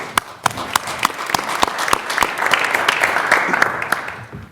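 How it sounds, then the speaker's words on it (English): A city council meeting audience applauds, with sharp individual claps standing out from a dense, fairly close round of clapping that holds steady for several seconds. "Let's give him a round of applause, please."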